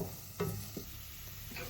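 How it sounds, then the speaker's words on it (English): Onions and garlic fry in a pot and are stirred, giving a soft low sizzle with a few brief scraping knocks of the stirring spoon. "Fry your onions, add your garlic,"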